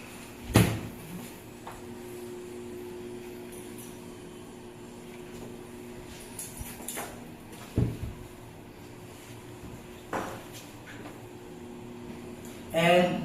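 Closet doors in a condo unit in Cebu City knock and clack a few times at intervals, faint against a steady room hum with some soft talking.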